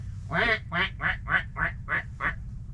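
A pintail duck quacks seven times in a quick, even series as birds drop onto decoys at a hunting spot, the calls close and clear over a low background hum.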